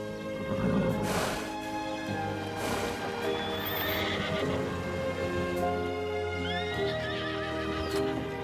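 Former competition horses whinny and neigh several times while hooves clip-clop steadily nearby, with a busy stable-yard texture underneath and no talking.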